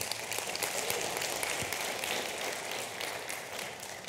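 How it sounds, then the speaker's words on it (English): Conference audience applause for the organizers at the 2014 Open Hardware Summit, a steady roomful of clapping heard from a distance, fairly faint and continuous. "just like a huge round of applause for like our organizers"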